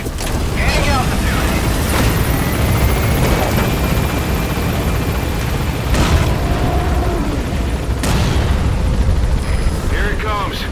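A helicopter's rotor and engine roar loudly and steadily throughout a Metal Gear Solid V game scene, with brief thuds and bursts of noise layered over it.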